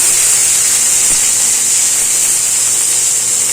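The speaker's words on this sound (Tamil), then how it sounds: "பொரிஞ்ச உடனே வெங்காயமும் கருவேப்பிலையும் போட்டுக்கலாம்" Chopped onion and curry leaves hit hot oil and sizzle loudly in a continuous, bright hiss that stays steady throughout, close up with no voices.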